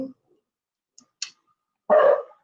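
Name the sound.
dog barking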